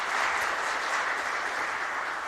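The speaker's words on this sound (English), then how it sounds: "Ladies and gentlemen, I want you to give a round of applause to the members of our first panel." A tourism youth expo audience gives a steady round of applause to the first panel, a soft, even wash of many hands clapping heard from a slight distance, with no talk.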